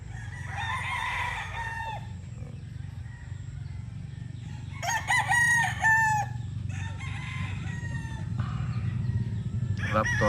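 A Raptor Sweater gamecock rooster crows nearby in a yard, two or three loud, drawn-out calls over a steady low background rumble, with no talking.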